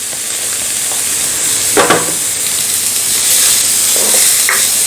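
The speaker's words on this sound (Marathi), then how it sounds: "हे थोडंसं परतून घेऊया आता आपण यामध्ये गाजर घालूयात व ढोबळी मिरची घालूयात" Carrots and capsicum sautéing in a pan for millet soup make a loud, steady hiss of frying, broken by a few brief scrapes and stirs, with no one talking.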